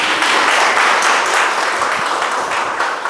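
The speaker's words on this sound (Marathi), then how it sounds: "जोरात टाळ्या येऊ देत जरा." Participants at a life-skills training session break into loud, sustained applause, many hands clapping densely and close by for about three seconds before the sound eases slightly at the end.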